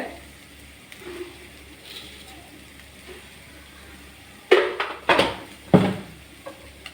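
Sugar being stirred into sweet Elanji filling in a bowl, with a few sharp scraping and clinking bursts of a utensil against the bowl after a quiet stretch of faint background noise.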